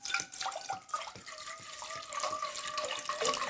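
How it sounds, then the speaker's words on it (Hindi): Water poured into a cooking pot while preparing apple murabba, a steady splashing, running-water sound close by, continuous for a few seconds with no talk. "पतीली के अंदर मैं पानी ऐड करती हूँ।"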